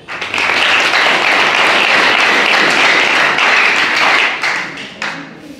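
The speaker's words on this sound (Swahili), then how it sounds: "Tunapaswa kushangilia ile pia." A crowd applauds steadily and loudly for several seconds, the clapping thinning out and fading toward the end.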